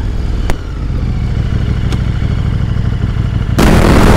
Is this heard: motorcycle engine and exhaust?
yes